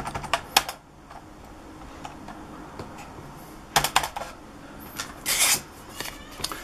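An electric typewriter driven through an LPC810 serial interface prints a message, giving bursts of sharp mechanical clacks and rattling strikes separated by short quiet gaps.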